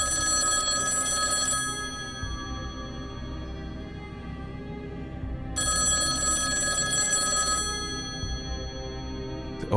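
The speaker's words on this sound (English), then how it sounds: "The old phone's loud noise woke up my friends." An old telephone in a woodland cabin rings loudly in two long bursts of harsh metallic bell, with a few seconds of low hum between them and another ring starting at the end.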